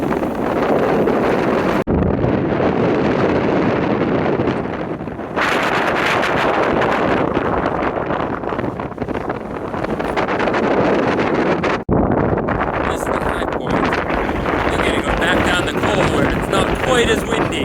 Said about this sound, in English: I think I might have to go down maybe 20 feet to get out of this wind.